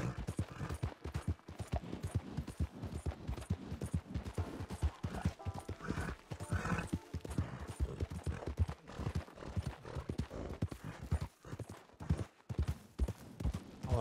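Horse hooves gallop in a steady fast clip-clop rhythm through the Red Dead Online video game, a continuous drumming run lasting the whole stretch with no talk.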